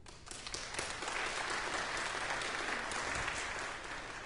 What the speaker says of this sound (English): applaud for Peter.